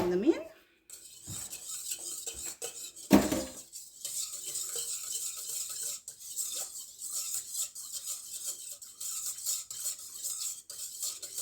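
A utensil stirs olive oil into hot-process soap in a pot, giving intermittent scraping and clinking against the pot with quiet gaps and a faint background hiss.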